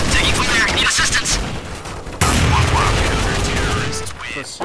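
Gunfire in the video game Counter-Strike: Source, dense bursts of shots and booms layered with radio-style voice chatter throughout, loud and busy.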